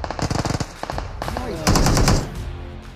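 Rapid automatic gunfire in a shooter video game, loud bursts of fast shots, then a denser sustained volley, with a voice speaking briefly underneath.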